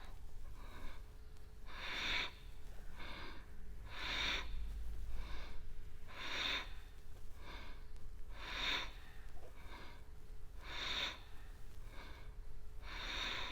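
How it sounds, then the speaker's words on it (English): Loud, deliberate breaths rise and fall in a steady rhythm, about one every two seconds, during a slow sacral chakra yoga flow, with a faint steady hum beneath and no talking. "Don't be shy, make noise with your breathing."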